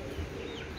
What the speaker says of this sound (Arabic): هاد السطح نوكل الحمام ديالي ودجاجي فيليسين صغيورين